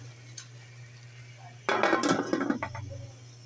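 Lid set onto a cooking pot while chicken afritada cooks, a sudden clattering metal clank with a few rattling settles, over a low steady hum.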